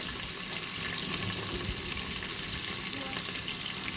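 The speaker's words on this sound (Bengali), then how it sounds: "এবার তেলের মধ্যে আমি একটু 5 ফোড়ন দিয়ে দিয়েছি" Panch phoron seeds crackle in hot oil, making a dense, constant sizzling hiss close by with rapid tiny pops over the whole stretch.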